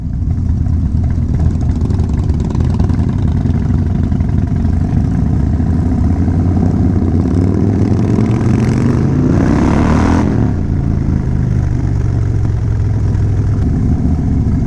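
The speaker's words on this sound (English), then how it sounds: "So what do you reckon about Edie's exhaust?" Loud, close classic Australian muscle car engine idling at a car show with a deep rumbling exhaust, a brief rev swelling and settling back midway.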